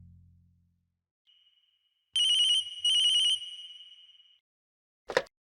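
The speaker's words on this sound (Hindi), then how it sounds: "रिंग हो रही है।" An electronic phone ringtone in a Hindi TV drama, two bright pulsing bursts of bell-like tone with a trailing sustain, clean and close in near silence, followed by a short sharp click.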